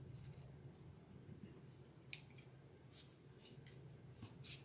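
Scissors trim the edge of a dried, sealed craft foam flower in a series of short, crisp snips, several spaced across the stretch and louder near the end, over a low steady background hum.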